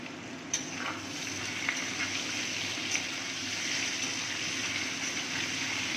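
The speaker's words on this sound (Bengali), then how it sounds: "এটা একটু ভাজা হতে দেব।" Half-boiled taro root frying in a pan, producing a continuous dense sizzle that stays close and fairly loud throughout, with a couple of faint clinks and no speech.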